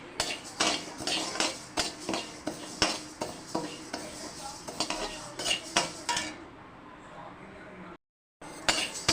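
Moong dal is roasted and stirred in a pan, producing rhythmic metallic scrapes and clinks of a spoon against the pan with a faint dry rustle, close and repeated, then a brief silence near the end.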